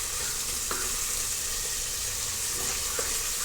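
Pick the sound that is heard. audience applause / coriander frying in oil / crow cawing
coriander frying in oil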